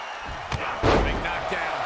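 A wrestler is knocked down hard in a Brock Lesnar versus Hulk wrestling match, one heavy slam landing with a dull thud midway through under steady crowd noise and commentary.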